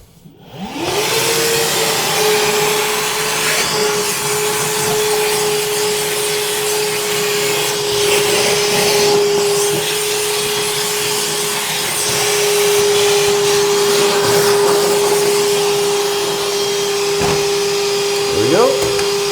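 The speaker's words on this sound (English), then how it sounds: "Vacuum back on." A shop vacuum runs steadily for the whole stretch while fixing an angle stop under a sink, a loud continuous whine with a fixed tone and some scraping and rubbing over it.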